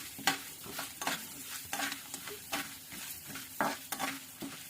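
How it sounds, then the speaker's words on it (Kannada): Frying in oil for puliyogare, a sizzling hiss broken by repeated spatula strokes and scrapes against the pan at an irregular, brisk rhythm, close and clear. "ಗೋಲ್ಡನ್ ಬ್ರೌನ್ ಆಗೋವರೆಗೂ ಫ್ರೈ ಮಾಡ್ಕೊಳ್ಳೋಣ"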